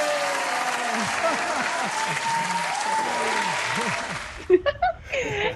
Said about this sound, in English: If you're having a good time, let us hear you clap your hands.